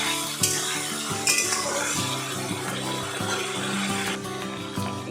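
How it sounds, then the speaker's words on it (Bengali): Onion fries in a pan over medium-low heat, a steady close sizzle broken by repeated scraping and clinking of a spoon stirring against the pan. "এই সময় গ্যাসের স্টিমটি মিডিয়াম টু লোতে রেখে পেঁয়াজটাকে ভেজে নিতে হবে।"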